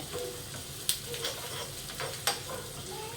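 Chili flakes frying in a pan, a steady soft sizzle with a few sharp clinks and stirring scrapes on top, close and moderately quiet.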